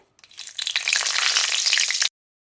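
Two bay leaves hit hot oil in a wok, setting off a loud, steady sizzle that starts abruptly, holds close and even for about two seconds, then cuts off.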